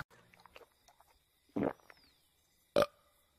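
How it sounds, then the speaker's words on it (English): A female cartoon character lets out a short burp, followed a second later by a louder, abrupt one, with quiet scattered sounds between. "Yeah, I burp."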